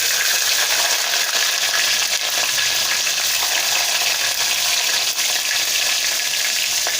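Mustard seeds, cumin and green chillies sizzle loudly in hot oil, a dense, continuous crackling hiss held close and steady throughout with no voices.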